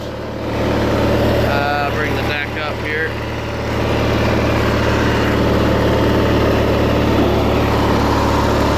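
Simplicity 5216 hydrostatic riding lawnmower with a 16hp Briggs and Stratton engine running steadily at close range, a continuous low drone under a brief spoken remark.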